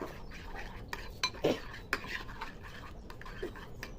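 A spoon works turmeric, chilli and cumin powder into a ridge gourd and potato curry, producing quick, light scrapes and metallic taps against the pot in an irregular rhythm at close range.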